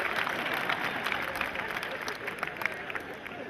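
Applause from an audience at a Hindi kavi sammelan poetry recital, a steady dense wash of many hands clapping throughout, fairly loud and continuous with no pauses.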